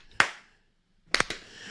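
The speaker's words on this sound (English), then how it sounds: "That's them clapping on the 1 and 3." A few people clap along on beats one and three: one sharp clap, a pause, then a quick cluster of three claps, close and dry.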